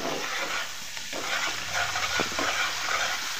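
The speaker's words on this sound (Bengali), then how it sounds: "মশলাটাকে একটু কষিয়ে নেবো" A spice paste with shrimp cooks down in oil for village-style garlic prawns, a steady close sizzling hiss broken by soft stirring scrapes, with no talking.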